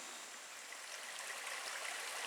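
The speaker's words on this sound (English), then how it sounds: "Okay, so there's little No Business Creek" A small creek, No Business Creek, flows in a steady, gentle rush of water, soft and continuous.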